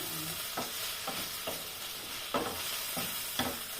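Vegetables including carrot stir-fry for pancit in a hot pan, a steady loud sizzle with periodic scraping strokes of the utensil every half second or so, no voices.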